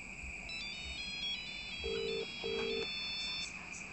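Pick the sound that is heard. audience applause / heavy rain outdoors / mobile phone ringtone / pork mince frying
mobile phone ringtone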